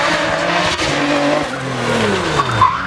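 A Radical race car at speed on a track, engine note gliding downward as it passes, with a brief tyre squeal near the end, loud and fairly close.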